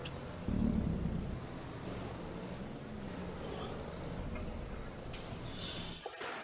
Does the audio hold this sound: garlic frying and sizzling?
no